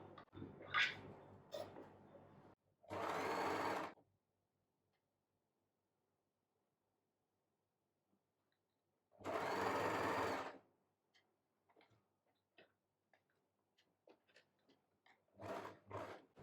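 A sewing machine stitches a fabric hair band scrunchie in two short, steady whirring runs separated by quiet pauses, with a third run starting at the end and light handling clicks between them.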